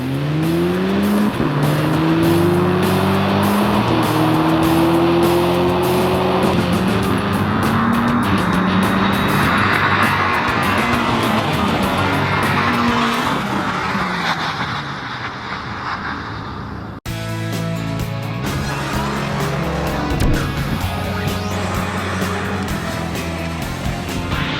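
An Audi S3 and a BMW 228i drag racing, with loud engines revving hard and rising through the gears as the cars accelerate. Tires squeal and the engine note sweeps up repeatedly before a cut to more engine roar.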